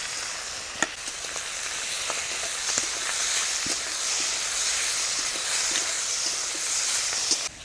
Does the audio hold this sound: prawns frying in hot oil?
yes